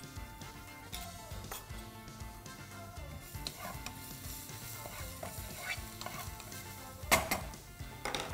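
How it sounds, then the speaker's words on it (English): Ginger and garlic sautéing in a pan, with steady frying sizzle and intermittent stirring scrapes throughout, plus a sharper clatter near the end; no one speaks. "once you've sauteed the ginger and garlic a little bit"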